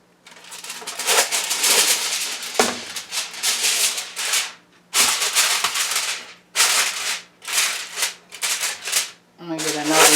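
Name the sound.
handling a sheet of aluminum foil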